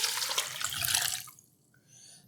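Warm water pours into a strainer bowl in a kitchen where Thai drunken noodles are being made, a bright splashing rush that cuts off after about a second, leaving faint drips and quiet.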